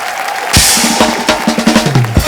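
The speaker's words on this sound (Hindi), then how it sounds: "जोरदार तालियां सोनाक्षी और शिवानी के लिए।" A studio audience on a TV comedy show bursts into applause and cheering, a sudden loud crowd swell followed by rhythmic clapping beats over background music.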